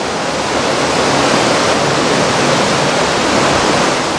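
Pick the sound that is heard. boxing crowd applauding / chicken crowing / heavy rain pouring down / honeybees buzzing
heavy rain pouring down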